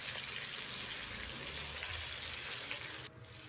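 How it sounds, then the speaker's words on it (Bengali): Chopped tomato fries in oil with a dense, even hiss and crackle close up, continuing steadily and dropping slightly near the end. "তো টমেটোটাকে দিয়ে তেলের উপর একটু ভেজে নিচ্ছি।"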